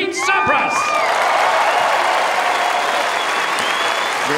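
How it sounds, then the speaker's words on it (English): Sustained applause from a large tennis crowd honouring Pete Sampras after the 1999 Stella Artois final at Queen's, with cheers and whoops rising early, holding steady and loud throughout. "The applause here thoroughly deserved for one of the truly great players of this century"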